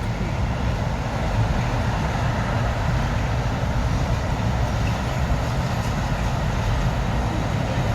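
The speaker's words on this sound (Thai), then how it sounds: "รถไฟมาอีกแล้ว" Continuous loud rumbling roar of a passing train, steady and close throughout with deep low-end noise and no pauses or voices.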